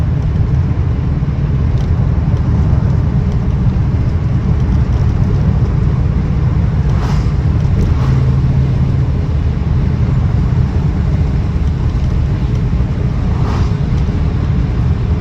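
A 1965 Jaguar Mark II with a 3.4-litre engine and overdrive, driving along at steady speed, giving a constant low engine drone mixed with road and wind roar inside the cabin, loud and unbroken, with no talking.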